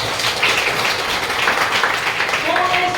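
Audience applause for India at a real estate group gathering, a dense, steady wash of clapping lasting about three seconds with a faint voice near the end.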